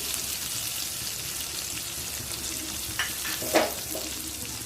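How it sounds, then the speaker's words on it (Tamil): Steady broadband sizzle of cabbage stuffing ingredients frying in hot oil, continuous and close, with a couple of brief louder crackles near the end. "இதை நல்லா இந்த எண்ணெயிலேயே வறுத்துக்கோங்க."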